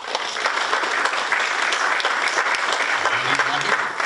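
Audience applause at the 2017 West Virginia Governor's Public Service Recognition Ceremony for a 35-year award recipient, steady and fairly loud, with a voice briefly audible underneath near the end.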